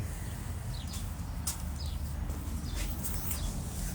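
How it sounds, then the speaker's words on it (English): Faint, scattered bird chirps and short whistled calls over a steady low outdoor rumble, with no voices. "don't know if y'all can hear the birds behind me"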